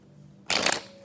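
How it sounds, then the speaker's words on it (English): A deck of tarot cards gets one short, close shuffle, a single dense riffling burst of about a quarter second against quiet room tone. "And one last shuffle."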